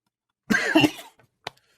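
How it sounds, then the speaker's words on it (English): One person coughing nearby, a single rough, throaty cough followed by a small throat-clearing sound and a short sharp catch, loud against otherwise silent surroundings. "you'll have to bear with the coughing"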